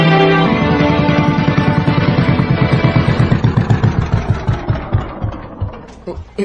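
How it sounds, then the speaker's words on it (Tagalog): A fishing boat's engine runs roughly and starts cutting out, its chugging beats slowing and spacing apart until the motor nearly dies, heard close and loud. "Nagka-problema man ang makina sa pambot. Patay-patay man ang andar."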